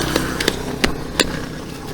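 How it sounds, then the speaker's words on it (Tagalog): Motorcycle loaded with cargo such as sacks of urea fertilizer, a rough low engine rumble running throughout with a few short sharp knocks and rattles over it, close and fairly loud. "naging kargador yung aking motor"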